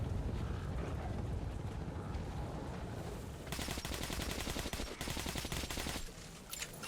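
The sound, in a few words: gunfire in combat in the video game Metro Exodus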